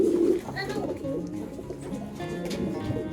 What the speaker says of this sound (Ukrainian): Прийшли послухати, як голуби співають.